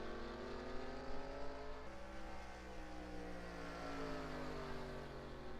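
Race cars lapping Yas Marina Circuit in a racing video game, a steady droning engine whine with rising and falling pitch as cars accelerate, faint and continuous with no talk.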